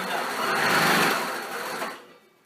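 A sewing machine stitches cushion fabric for a dog bed in one continuous whirring run, close and fairly loud, slowing and stopping near the end.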